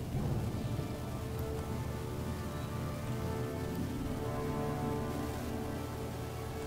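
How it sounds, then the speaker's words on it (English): Rain pours throughout an Empire Total War battle, a dense steady hiss of falling drops with low rumbling beneath and no voices. "This rain is very dodgy."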